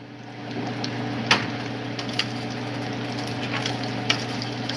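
Bacon crackles and sizzles steadily in a pan while it fries crisp, a constant bed of fizz with a few sharper pops and clicks rising above it, close by and with no talking.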